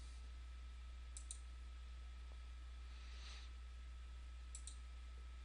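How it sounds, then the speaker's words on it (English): Computer mouse clicks, two quick pairs of faint, sharp clicks spaced a few seconds apart over a low steady hum in a quiet room. "I'll go ahead and click Add."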